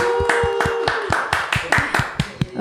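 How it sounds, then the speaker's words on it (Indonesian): Sparse clapping for a band at an RRI Palu live music session, about a dozen distinct, evenly spaced claps from only a few hands, close and sharp, over a faint sustained musical tone. "kita berikan tepuk tangan yang meriah"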